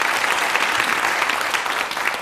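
Studio audience on a 1987 quiz show bursting into dense, loud, sustained applause, an even roar of many hands clapping at once.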